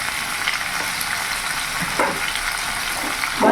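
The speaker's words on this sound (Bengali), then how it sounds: "ভালো করে মিশিয়ে নেব" A spatula stirs salt, turmeric and chili powder into onions shallow-frying in a pan, a steady loud sizzle with scraping strokes near the end, no talking.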